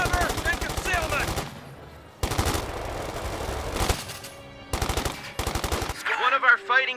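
Rapid automatic gunfire in the video game Company of Heroes 2, dense repeated bursts separated by short pauses, with a soldier's voice and game sounds mixed in.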